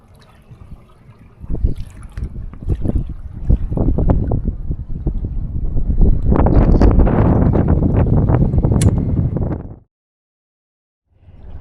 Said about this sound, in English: It's really windy, so it's gusting.